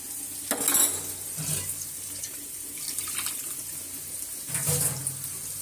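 Water poured into a cooking curry, a rushing splash into the hot pot followed by bubbling and sizzling, with a second pour near the end.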